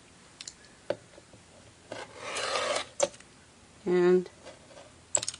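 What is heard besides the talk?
cutting fabric for a quilt block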